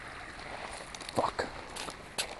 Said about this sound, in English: there's definitely water running there